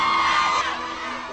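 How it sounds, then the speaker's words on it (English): Fans scream for Daniel Radcliffe in a brief, loud burst of high-pitched crowd shrieking and whooping that eases off slightly toward the end. "all you have to do is sort of turn around and wave, and they scream."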